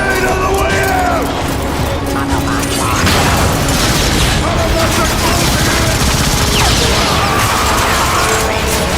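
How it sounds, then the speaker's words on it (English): Grenade blast and sustained gunfire in the Transformers: Fall of Cybertron game, a loud dense barrage of booms and rapid shots running continuously throughout, with mechanical clatter and a voice talking over it. "Grenade on the way out!"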